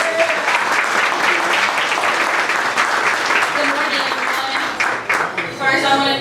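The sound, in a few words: audience round of applause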